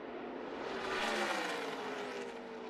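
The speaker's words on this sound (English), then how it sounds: "You can hear him modulating that throttle." A NASCAR Camping World Truck Series engine at Atlanta swells and eases as the throttle is modulated through a corner, a broad roar rising in the middle and falling back, heard alone.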